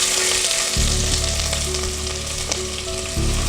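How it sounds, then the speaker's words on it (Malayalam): Two medium onions, thinly sliced, hit hot coconut oil for a potato curry and set off a loud, steady sizzle that swells and stays dense throughout, with no talking. "വെളിച്ചെണ്ണ ചൂടായി വന്നിട്ടുണ്ട്. ഇനി നമുക്ക് സവോള ചേർത്ത് കൊടുക്കാം."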